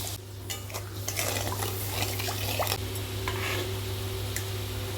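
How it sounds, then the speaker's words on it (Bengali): Water goes into a pan of masala for a small-fish recipe, giving soft sizzling and a bubbling splash with a few scraping stirs of a utensil against the pan, fairly quiet and up close. "এরপরে আমি একটু জল দিয়ে দেবো।"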